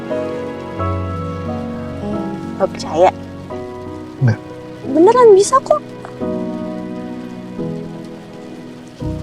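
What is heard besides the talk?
heavy rain falling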